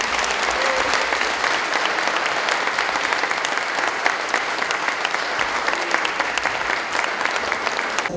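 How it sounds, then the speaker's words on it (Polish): Sustained audience applause for a performing ensemble at an International Day of Persons with Disabilities event in Krynica-Zdrój, dense and even with no break for the full length. "wielkie brawa dla całego zespołu i dla pani Marty"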